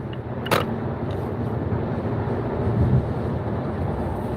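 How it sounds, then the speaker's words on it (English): Car driving on the commute home from work, a steady road and engine rumble from inside the vehicle with a brief louder whoosh early on. "Driving back from the JOB to the HOME."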